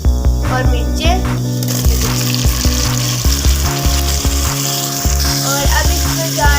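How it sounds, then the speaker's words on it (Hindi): Potatoes, tomatoes and chillies fry in a hot pan for a mixed vegetable curry, giving a loud, steady sizzle with occasional stirring scrapes and a low hum underneath. "अच्छा जी, अब इसमें जा रहे हैं आलू, टमाटर और मिर्चें,"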